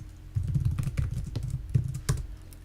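Computer keyboard typing into a code editor, a steady patter of close key clicks with a few sharper, louder strikes and no talking.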